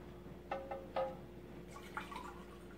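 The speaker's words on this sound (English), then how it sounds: "I'm going to go ahead and just soak that one, and this one, and this one." Water drips and splashes onto seeds being soaked for a greenhouse comparison, giving a few separate drops and small spills close by, over a quiet background hum.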